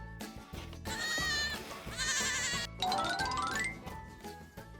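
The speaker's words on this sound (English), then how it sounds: "The goats are let out every morning to find food." Goats bleat on a farm in Vietnam, several loud, close, wavering calls overlapping one after another with no talk.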